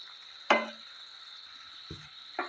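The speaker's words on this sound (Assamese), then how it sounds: "2 মিনিটমান সময় ভালদৰে ভাজি লওঁ" Spice masala stir-fried in oil in a pan, heard as a few brief scraping stirs against a steady faint sizzle, quiet and close, with no talking.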